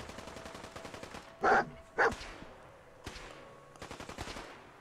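Gunfire from a fight in the video game Fallout 4, with two short loud bursts close together in the middle and fainter, scattered shots before and after.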